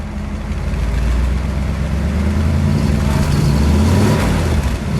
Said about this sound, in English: We'll put it in neutral, and let's give it a rev.